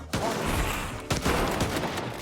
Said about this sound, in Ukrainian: А по кому йде стрельба?